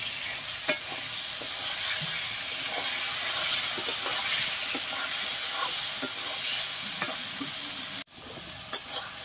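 Tomatoes sauté loudly in a hot pan with a dense, steamy sizzle. Sharp spatula clicks and stirring strokes punctuate it, ending in a brief gap and a final clack.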